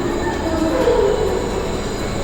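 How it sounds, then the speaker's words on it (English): A Wuppertal suspended monorail train turning around at the end of the line: a loud, steady rumble of rolling wheels with a faint squeal rising briefly in the middle. "now the train is going to turn itself around"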